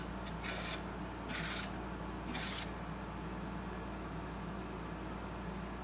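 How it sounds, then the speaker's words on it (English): A ratchet snugs a bolt down on a Shapeoko XXL CNC router. Three short, raspy clicking strokes sit over a constant low hum, and then only the hum remains. "I'll find the ratchet. I'm gonna put a snug on it."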